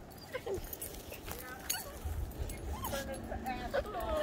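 A small dog whimpers and gives high yips several times outdoors on a forest and beach walk, near to middling distance, with people talking over and between the sounds.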